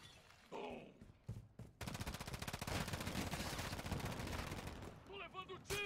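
Rapid automatic gunfire from Call of Duty: Modern Warfare III, a loud sustained burst of dense shots with a few isolated cracks before it and chirpy in-game effects at the end.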